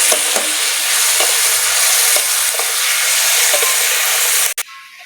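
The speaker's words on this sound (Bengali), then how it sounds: "ভালো করে নেড়ে করে ভেজে নেব" Onions frying in a pan for a soybean curry, with loud continuous sizzling and steady hissing close up, broken by a few scraping stirs, then a sudden clatter as the sizzle drops away near the end.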